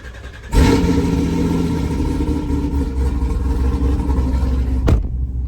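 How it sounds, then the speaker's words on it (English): A modified, cammed 800 hp V8 Cadillac CTS-V cranks and fires into a loud, rumbling idle with a deep, throaty tone, then a sharp rev near the end before settling, heard from inside the car. "let's go ahead and get a startup from inside the car"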